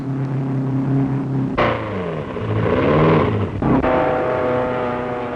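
1930s race cars roar around the Indianapolis speedway, engines loud and close, with a sharp surge and a falling pitch sweep as a car passes, then another quick burst.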